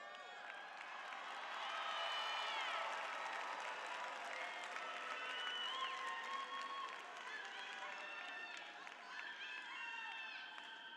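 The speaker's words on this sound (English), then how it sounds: "we encourage each of you to cheer as loudly as you desire for your favorite" A graduation crowd at a high school ceremony applauds and cheers in a sustained, even wash of clapping heard from a distance, swelling slightly early on and then holding steady.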